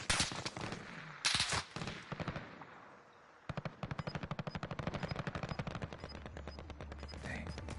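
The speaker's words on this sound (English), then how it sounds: "And he's trying to snipe. I'm being sniped at." Rapid game gunfire from a Warzone match in a sniper firefight, with a few sharp shots early and then a long dense burst of repeated cracks, loud and close, over a constant low background hum.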